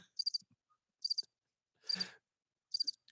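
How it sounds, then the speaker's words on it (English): Crickets chirp in short, evenly spaced bursts of rapid trills, each pulse repeated a few times, set against near silence with a faint low rustle in between. "Crickets."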